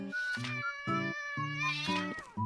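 Repeated loud meows from a cat character in a Roblox game, five short nasal calls in an uneven rhythm, heard up close and alone.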